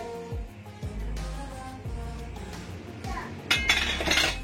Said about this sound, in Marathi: तर आपण आता हे गॅस बंद करून झाकण उघडणार आहोत.